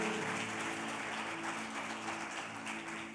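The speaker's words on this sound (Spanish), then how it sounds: "Dale un fuerte aplauso al Señor." A church congregation at a Sunday service gives a loud, sustained round of applause, dense continuous clapping filling the room at an even level over a steady low hum.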